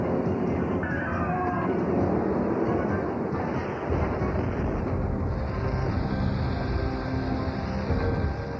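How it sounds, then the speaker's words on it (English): A fireworks boat blows up in a TV action show, filling the scene with a dense, continuous roar of blasts and rumble that stays loud throughout, with no clear gaps between bursts. "they just so happened to blow up the fireworks boat"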